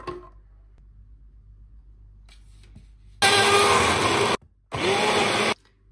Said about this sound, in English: Next, I'm going to grind strawberry,